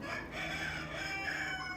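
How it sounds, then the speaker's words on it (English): Rooster clucking softly and steadily at close range on a farm, a continuous low chatter of contented calls with no talk over it. "I don't know if you can hear him clucking."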